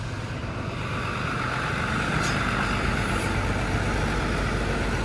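A Jawa Indah Transindo bus rolls into the shelter at Bungurasih terminal, its diesel engine droning steadily and close, with a brief hiss of air near the middle.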